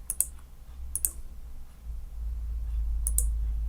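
A few sharp computer mouse clicks while working in 3D CAD software on a staircase part, arriving in quick double pairs over a low hum.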